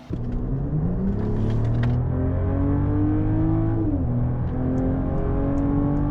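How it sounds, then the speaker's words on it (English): A 2027 Mercedes S-Class S 450 accelerates on the road, its engine note climbing steadily through the gears with a smooth, continuous rumble and a brief shift around the midpoint, loud and close inside the cabin with no talking. "now it's time to go for a drive and discover together how good this S-Class in its latest iteration actually is"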